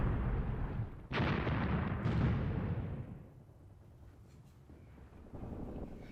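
Artillery fire in the war game Graviteam Tactics: Mius Front: two heavy, loud booms a second apart, each rolling into a long fading rumble over wind-like noise, followed by a quieter distant rumble.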